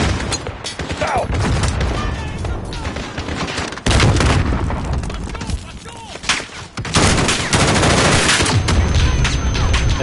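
Heavy gunfire in a Modern Warfare campaign battle, loud sustained bursts of automatic fire and booming shots that pause and restart, with voices talking over the firefight.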